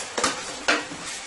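Crushed fire-roasted tomatoes tossed in a hot pan for a Guyanese butterfish stew, a steady close sizzle broken by two brief louder stirring scrapes, with no talking.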